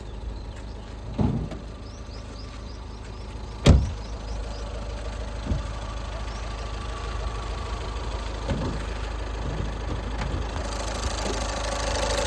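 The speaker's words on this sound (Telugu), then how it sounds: "ఇంజన్ బీటింగ్ చూడండి, చాలా బాగుంది." Low, steady rumble of a Volkswagen Vento car engine idling close by, with a few knocks and clunks at intervals.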